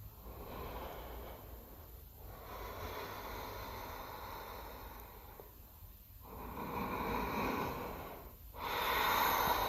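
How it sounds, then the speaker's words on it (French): Slow Ujjayi yoga breathing, long hissing throat-constricted inhales and exhales in a steady cycle of about four breaths, close and soft, with no talking. "On peut toujours utiliser ici la respiration Ujjayi"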